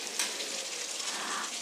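Two large chopped onions fry in oil over a low flame for rajma masala, giving a continuous, even hiss of sizzling throughout.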